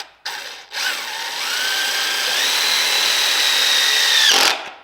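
Power drill driving a screw into an old rear main seal gasket, one continuous loud whine that starts, briefly stops, then runs steadily and rises slightly in pitch before cutting off, alone and close.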